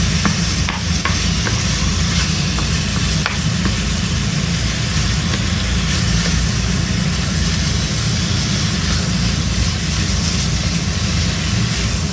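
Sautéing onions in a pan for Greek pastitsio, a steady, loud, continuous sizzle with occasional stirring scrapes, and no talk.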